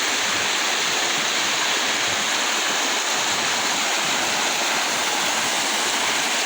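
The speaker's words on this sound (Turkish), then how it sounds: "Aşağı vadiye akan sulardan bir kol daha." Water pours down a waterfall stream into a valley, a loud, steady, unbroken rushing roar close by, with no voices.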